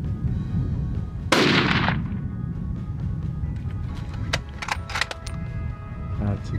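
A single loud rifle gunshot on an African hunt cracks sharply and rolls off into a decaying echo, followed by scattered rustling and small handling noises, with quiet voices nearby.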